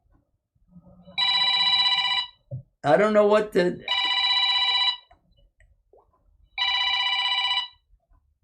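A telephone rings in three even electronic bursts with no call coming through, and a person speaks briefly between the first and second rings.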